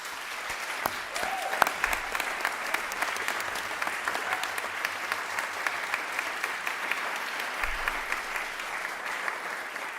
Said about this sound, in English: Please give one more huge round of applause to all of the performers tonight.